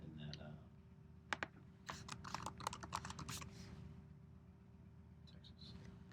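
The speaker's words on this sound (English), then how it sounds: "I would just type in Galveston" Light keystrokes patter on a computer keyboard in two brief bursts of quick taps over a low steady hum, quiet and close, with a person speaking at the edges.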